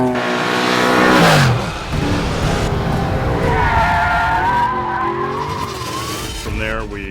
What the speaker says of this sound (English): when cars drive by at 100 miles an hour, 2 feet away from them